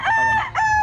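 A gamefowl rooster crows close by at a farm raising broodcocks and stags, one loud full cock-a-doodle-doo with a brief dip midway before the call resumes, no voices over it.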